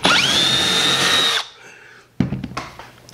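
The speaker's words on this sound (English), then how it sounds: "You can drill multiple holes, tool doesn't bog down." A Milwaukee M12 FUEL cordless drill whines at high speed, steady for over a second, then spins down; after a pause, short bursts of drilling and clatter follow close by.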